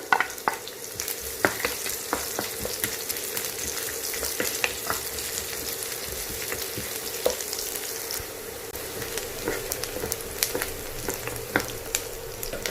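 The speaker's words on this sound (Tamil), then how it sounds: "பூண்டு பொரிஞ்சாக்கில் வெங்காயம் சேர்த்துக்கலாம்." Steady crackling and sizzling of garlic and onion frying in a hot pan, with scattered sharp pops throughout, close and continuous.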